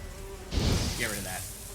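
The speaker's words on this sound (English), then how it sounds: "And a huge swarm of bees, actually." A swarm of bees buzzes in The Witcher 3, a fairly quiet droning hum with a brief louder swell, heard alone.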